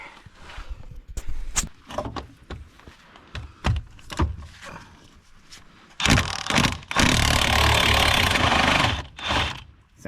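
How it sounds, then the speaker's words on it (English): A socket wrench on extensions works a drive shaft bolt on a 2000 Ford Explorer, with close, irregular metallic clicks and clunks, then a burst of loud, sustained whirring rattle from a power tool spinning the bolt. "Let's see if we can't zip that bolt out of there."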